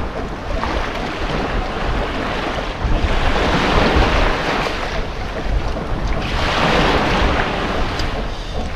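Sea waves wash onto a shore in broad, continuous surges of surf, rising and falling in loudness with wind noise over the microphone and no voices.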